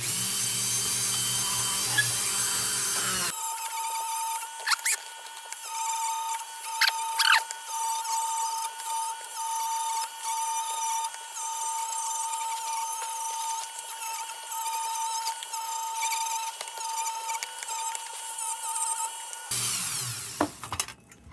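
Nylon abrasive pad scrubbing rough oxidation off a Dietz Comet lantern, a steady close rasping scrub with small rhythmic bursts that runs for most of the stretch, with a low hum at the start and end.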